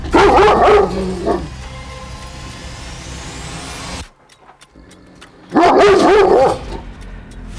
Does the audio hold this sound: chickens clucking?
no